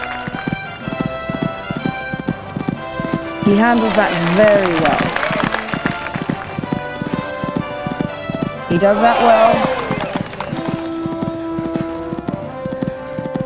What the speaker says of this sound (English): This horse is really jumping well for him.